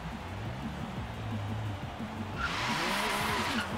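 A video game car engine drones and rises in pitch, revving harder toward the end as a hissing tire squeal joins in.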